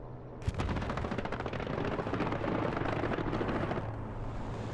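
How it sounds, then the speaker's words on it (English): Heavy gunfire from a P-47 strafing run in the World War II shooter Hell Let Loose, opening with a sharp crack and rolling into a dense, sustained roar of rapid shots that tapers slightly near the end. "Strafe and run coming up on the hedge."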